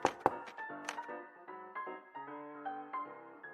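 A few sharp knocks on a door after a tray is set down, loud and close at the start, followed by quieter tonal tapping and ringing sounds.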